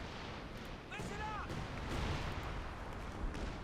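A Stuka dive-bomber strike in Company of Heroes 2 hits a sector of the Port of Hamburg map during a 4v4 match: a rising whistle, then a sustained, dense roar of blasts and rumbling battle noise.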